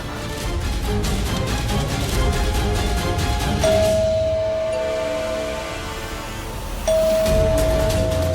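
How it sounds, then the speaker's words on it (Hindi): A front-door doorbell chimes twice with a sustained electronic tone, heard over a background music bed in a Hindi TV drama scene. "कितनी देर से दरवाजे पर घंटी बज रही है।"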